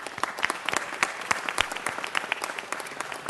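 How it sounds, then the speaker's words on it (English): Applause at a city council meeting: a crowd claps with distinct, crisp individual hand strikes standing out from a steady clatter, lively and fairly close, with no speech over it. "Let's give him a round of applause."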